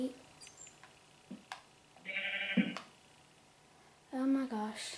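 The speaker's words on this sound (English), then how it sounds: "What are you doing down here, sheep?" Sheep bleating inside a cave in a video game, a few short bleats with a longer wavering call near the end, standing clearly above faint background game sounds and a voice speaking.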